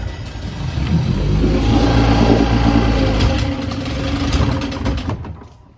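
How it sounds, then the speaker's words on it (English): A 1959 Johnson Super-Seahorse 35hp outboard motor on a 1957 13-foot Trailorboat revs in neutral, a loud, close engine swelling with the throttle, holding, then easing off toward a lower idle. "I'm gonna bring up the throttle a little bit."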